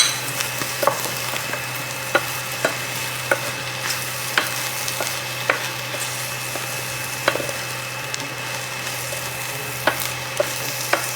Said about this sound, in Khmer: ដាក់ស្លឹកខ្ទឹមអាហ្នឹងយើងឆា